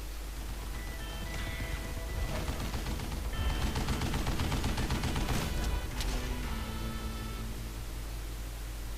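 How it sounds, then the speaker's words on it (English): A Gatling gun opening fire in the Western shooter game Call of Juarez Gunslinger, fired from a shielded tunnel: a dense, continuous roar of rapid shots and noise lasting several seconds, loud and close. "Kid Curry opened up on me with a goddamn Gatling gun"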